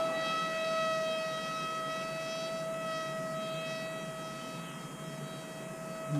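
ZOHD Alpha Strike RC wing with its electric motor held at full throttle, giving a loud, steady high-pitched whine that stays constant and close throughout, with no talking.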